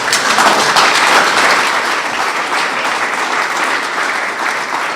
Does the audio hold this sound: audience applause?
yes